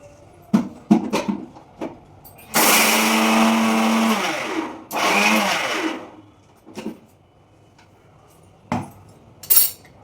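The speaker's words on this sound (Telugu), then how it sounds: "వేసేటప్పుడు మిక్సీలో వేసేటప్పుడు కొంచెం వేడెక్కుతూ ఉంటుందండి, ఆపి వేసుకోండి." A kitchen mixer grinder grinding flour for ariselu, two loud whirring bursts of a few seconds each, surrounded by sharp clicks and clinks of the jar and utensils.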